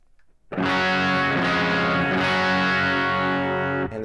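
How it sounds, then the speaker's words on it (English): Electric guitar pushed through a distortion effect mixed in with the clean signal, a sustained buzzing chord ringing loud and alone for a few seconds before cutting off. "it's not the same type of distortion that it just was when you were just running it standard."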